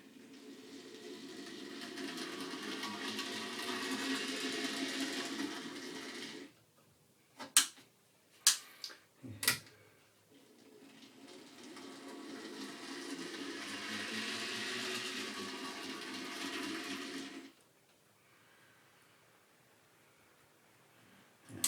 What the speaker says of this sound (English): Track down, trains running.